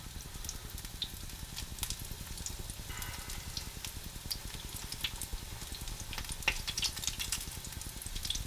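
Sweetcorn fritters frying in hot oil, giving a continuous close, even sizzle and crackle with small pops scattered throughout.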